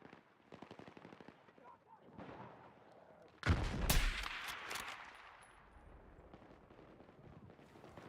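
Gunfire and explosions from a sniper-rifle shooter video game: rapid shots crackle first, then a loud blast with bursts of fire, and a muffled rumble trails off under faint talk.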